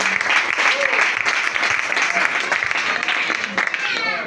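A church congregation bursts into steady, loud applause during a worship service, dense clapping mixed with cheering voices throughout.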